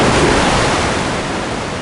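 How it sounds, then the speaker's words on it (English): A ship crashing down into the ocean, a loud, sustained wash of surf-like water noise that fills the whole clip and eases slightly toward the end, with no voices. "The ship splashed into the ocean."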